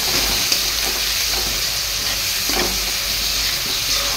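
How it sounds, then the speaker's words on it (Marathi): Onion, tomato and garlic fry in a pan, giving a steady, dense sizzle and hiss with faint stirring scrapes, heard close and without any voices. "परत कांदा, टोमॅटो, लसूण टाकायचं. चांगलं तळून घ्यायचं."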